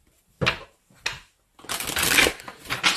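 A deck of tarot cards is shuffled up close, with two quick riffles followed by a longer, continuous burst of card shuffling.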